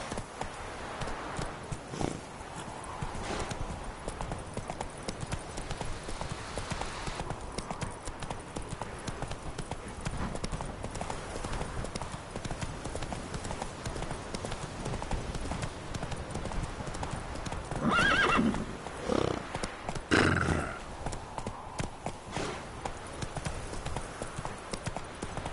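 Roach the horse galloping in The Witcher 3 video game, a continuous rhythmic clip-clop of hooves at close range for the full stretch, with a brief whinny and a short spoken line partway through.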